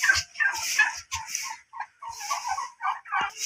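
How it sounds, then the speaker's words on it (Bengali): Turkeys on a farm gobble in repeated bursts, close and fairly loud, with several birds calling over one another in quick, warbling phrases. "আজকে দেখাবো আমার টার্কি মুরগি খামার।"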